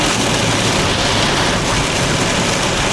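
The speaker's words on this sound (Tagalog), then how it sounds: "Grabe, ang ulan." Heavy rain pours down in a Tagaytay storm with zero visibility: a loud, dense, unbroken roar of water that stays steady throughout, with no voices.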